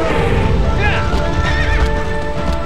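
A horse neighs loudly and shrilly while hooves clip-clop steadily underneath, from the video game Shadow of the Colossus, with a continuous dense game soundscape throughout.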